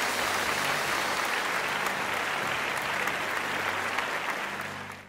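Children applauding during an online Sunday school service, a thick, steady wash of clapping from a group that holds evenly before fading at the end.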